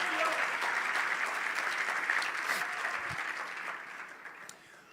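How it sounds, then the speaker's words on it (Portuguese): Applause from the audience at a church conference fills the whole span, dense and steady, then slowly thins and fades toward the end. "Será que você pode dar um glória a Deus e aplaudir a Jesus no seu lugar?"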